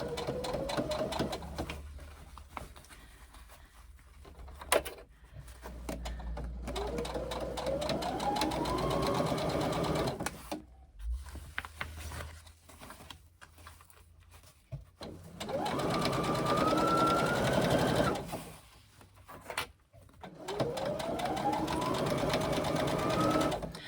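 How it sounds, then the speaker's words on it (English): A sewing machine runs in several bursts while stitching a 3/8 inch seam in fabric for a pouch, its motor whirring up in pitch with each run, close and steady, separated by short pauses. "just maneuvering the fabric so that they line up, and we're doing a 3/8 inch seam"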